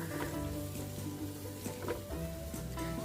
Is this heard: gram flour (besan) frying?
yes